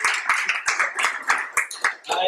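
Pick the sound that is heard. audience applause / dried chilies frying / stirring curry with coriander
audience applause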